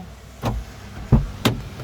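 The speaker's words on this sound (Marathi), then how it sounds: "हे बघा आता मी गाडी उघडतो" Three sharp clunks in a row, a car door latch and handle being worked up close, over a steady soft hiss.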